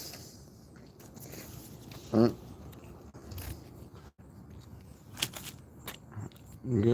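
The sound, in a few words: chewing food, ASMR eating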